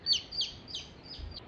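Backyard chickens cluck and chirp in short bursts, one after another, fairly close by and without any talk.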